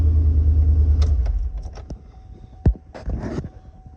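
An old Chevy truck engine with a freshly replaced fuel pump runs with a loud low rumble that fades within a couple of seconds, followed by a few clicks and a sharp knock, with no talk.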